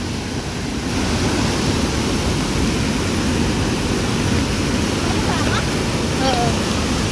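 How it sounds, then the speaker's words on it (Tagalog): Loud, steady rushing water roars continuously, a dense wash of noise close by with no break. "Malakas po yung tubig."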